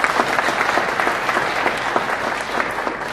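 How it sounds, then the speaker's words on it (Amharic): An audience applauds itself at a gathering honoring the artist Aster Bedane, steady dense clapping from many hands filling the room without a break, with a faint murmur of voices underneath. "አንዴ ለራሳችሁ አጨብጭቡ"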